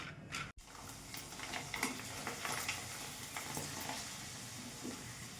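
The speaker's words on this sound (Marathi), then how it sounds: "आता आपण हे तळून बघूया।" Rice kichha papad frying in hot oil, a steady dense sizzle that runs throughout with small crackles and pops, close and moderately loud, with no one talking.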